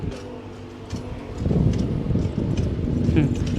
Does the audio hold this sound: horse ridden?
yes